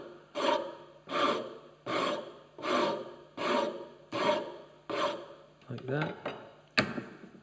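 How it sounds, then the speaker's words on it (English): A woodworking rasp shapes a wooden joiner's mallet in seven or eight slow, even, grating strokes, close and moderately loud, ending with a few quicker scrapes and a brief spoken comment. "Just saves the rasp."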